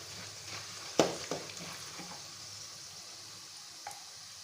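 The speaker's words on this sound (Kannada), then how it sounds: "ಶೇಂಗಾ, ಪುಟಾಣಿ, ಆಮೇಲೆ ಕರಿಬೇವು ಎಲ್ಲ ಹಾಕಬೇಕು. ಸ್ವಲ್ಪ ಫ್ರೈ ಮಾಡ್ಕೋಬೇಕು." Peanuts, roasted gram and curry leaves fry quietly in oil for a spiced flattened-rice snack, a soft continuous sizzle with one sharp clatter near the start and a few faint stirring knocks.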